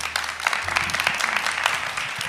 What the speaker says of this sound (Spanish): les pido un gran aplauso por ser una gran audiencia